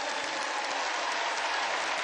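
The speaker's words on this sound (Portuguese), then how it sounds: "Pode aplaudir o Senhor" A church camp congregation claps steadily and densely throughout, a sustained wash of applause from a large crowd with no voices.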